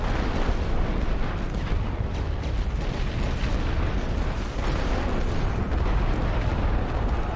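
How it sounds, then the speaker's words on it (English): Artillery shells pound enemy trenches in The Great War: Western Front, a World War I strategy game, as a dense, continuous roar of overlapping blasts and rumbling impacts that stays loud and unbroken throughout. "I'll just play it safe and obliterate with artillery just in case"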